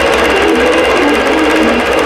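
A sewing machine stitches a Winter Wonderland tree skirt design in an even, rapid hum with a fine rhythmic pulse, close and steady with no voices.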